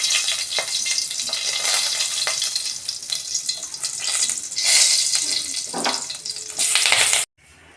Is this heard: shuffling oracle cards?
no